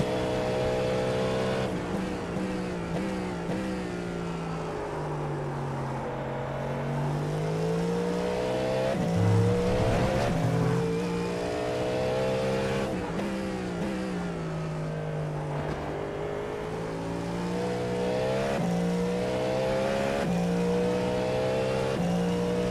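LMDh prototype race cars, including Porsche, BMW and Cadillac, race at Daytona in a video game, their engines droning loudly and continuously as they rise and fall through revs and gear shifts, with no talking.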